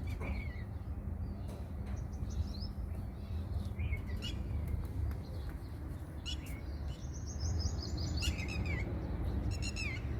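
Red-wattled lapwing calling on a rooftop in the Emirates: sharp, repeated high calls come in short bursts, clustering toward the end, over a steady low rumble of wind and distant background noise, with no talking.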